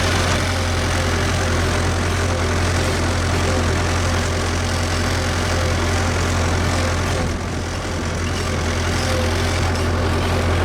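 A Massey Ferguson 265 tractor engine idles steadily at close range, a low continuous diesel rumble with a strong throb and no voices, holding even for the whole stretch.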